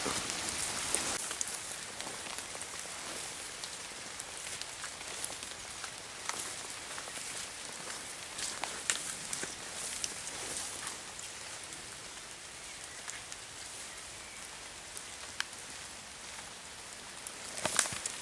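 Steady rain patters through woodland on a summer morning, a dense, even hiss of drops on leaves and ground with occasional louder single splats, continuing unbroken without any voices.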